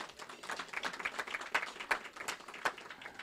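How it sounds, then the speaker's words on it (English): A small group claps together in scattered, uneven applause, fairly faint and brief, with no talking over it. "A round of applause for joining us."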